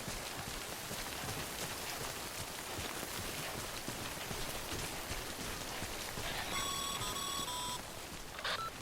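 Steady, dense rain falls continuously in the Death Stranding video game, a soft hiss of drops on surfaces, joined near the end by a short run of faint electronic beeps.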